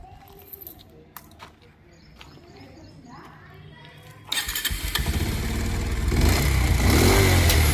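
A 2021 Bajaj Pulsar 150 motorcycle engine, heard first as quiet handling noise with a voice, then kicking into a loud, close, steady idle after about four seconds that swells louder toward the end.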